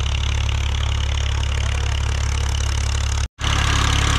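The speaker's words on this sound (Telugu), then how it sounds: "ఈ యొక్క భారీ మోటార్ సహాయంతో వాటర్ అనేది తోడిపోయడం జరుగుతూ ఉంది" A large motor pumps water out at a dewatering site, running with a loud, steady low drone that cuts out for an instant near the end and then resumes.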